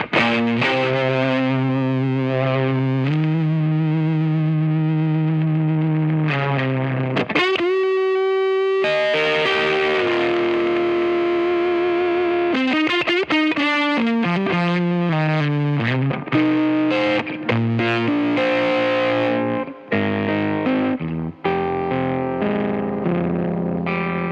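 A distorted electric guitar played through a pedalboard, including a compressor, plays held chords and quick melodic runs, heavily processed with crunchy, fuzzy, lo-fi overdrive and a slight chorus shimmer, steady and loud.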